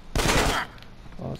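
A short, loud burst of gunfire hits the player in GTA San Andreas, then a faint second shot follows.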